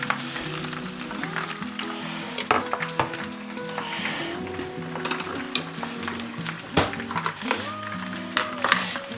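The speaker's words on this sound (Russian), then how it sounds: "картошку мы всю порезали и отправляется теперь на сковородку." Cut potatoes sizzle and fry steadily in a pan, with a constant crackling hiss broken by clinks and scrapes of a utensil stirring them, close and alone without talk.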